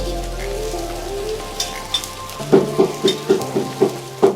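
Oil sizzles on a hot pan as a rustic dosa fries, with a soft hiss and a series of regular, rhythmic scraping taps near the end.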